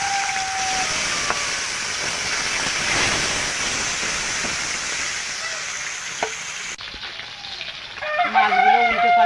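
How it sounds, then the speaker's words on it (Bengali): Turmeric-and-salt-rubbed fish sizzle and crackle in hot oil in a home kitchen. The frying is steady and continuous for several seconds, then a brief clatter follows near the end. "মাছটা ভাজবার তেলটা গরম হয়ে গেছে"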